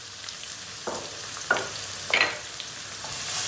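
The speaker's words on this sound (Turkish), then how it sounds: "Tam bu aşamada soğanını döküyoruz." Chopped onions go into a pan of garlic frying in oil, giving a few close bursts of sizzle and crackle with light stirring scrapes between them, moderately loud, with no voices.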